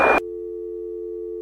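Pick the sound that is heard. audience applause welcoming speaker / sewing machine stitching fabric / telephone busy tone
telephone busy tone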